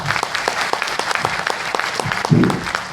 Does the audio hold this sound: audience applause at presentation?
yes